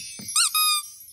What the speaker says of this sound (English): A squeaky toy.